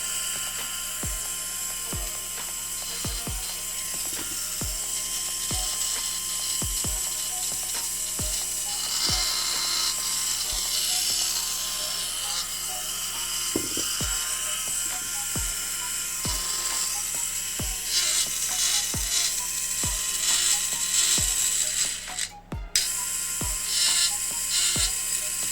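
A Krytac Kriss Vector airsoft gearbox with a Lonex motor cycles continuously, a rapid mechanical clicking over a steady motor whine, close and alone for the full run with a brief dropout near the end.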